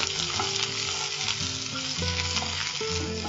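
Chopped onion fries with fennel seeds in hot oil for a dried-fish curry. It sizzles loudly and steadily, with faint stirring and clinking mixed in and no talking.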